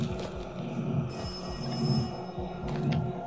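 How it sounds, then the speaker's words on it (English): An old-style telephone bell rings in a video game, repeated trilling bursts heard at a moderate distance over a low background hum. "There is a phone ringing somewhere."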